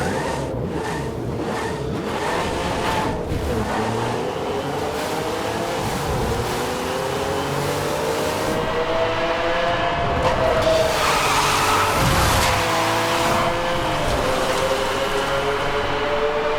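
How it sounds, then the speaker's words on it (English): A Pagani Zonda sports car engine in the video game Need for Speed Hot Pursuit Remastered drones continuously, its pitch climbing and falling through gear changes, sustained and fairly clean with no voices. "the Pagani Zonda received the sound change to its engine"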